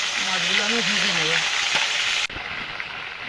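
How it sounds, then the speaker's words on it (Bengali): Fish frying in hot oil in a pan makes a dense, even sizzle close by, with a brief spoken voice over it near the start and the hiss continuing after. "মাছগুলো আমি ভেজে নেব।"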